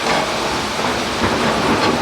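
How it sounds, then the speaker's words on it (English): Heavy rain drums steadily on a metal shop building, a loud dense hiss and patter filling the space without pause. "Now it's raining."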